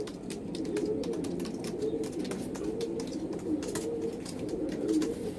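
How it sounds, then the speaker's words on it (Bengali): A male Golden Eyes pigeon coos steadily and close, its low throaty rolling calls repeating without pause over a faint background hiss. "দেখুন বন্ধুরা, এই নর পায়রা।"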